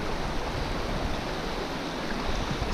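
River water rushes steadily below the lower Buller Dam, a loud, continuous broadband roar with no pauses and no voices.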